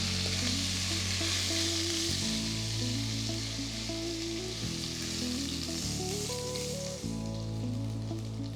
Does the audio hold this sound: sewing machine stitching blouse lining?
no